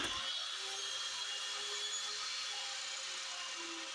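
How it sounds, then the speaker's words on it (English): A miter saw slices through a wooden fence picket to cut it to length, giving a steady, loud high-pitched whine that runs unbroken through the whole stretch with no voices. "out to the miter saw for a quick cut down to size"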